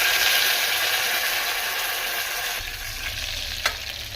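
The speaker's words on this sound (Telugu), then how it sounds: "ఎండుమిర్చి వేస్తున్నా." Dried red chillies fry in hot oil with a loud, continuous sizzle and crackle, close up, followed by a brief scrape or stir near the end.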